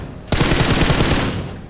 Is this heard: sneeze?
no